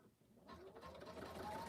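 A sewing machine stitches across a fabric pocket at a quilting table, its steady whirring motor running continuously and growing slightly louder after a brief quiet start, close and fairly faint.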